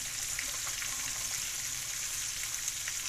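Crabs frying in a pan with steady, dense sizzling throughout, with faint scattered pops and light crackle, close and fairly quiet, no talking.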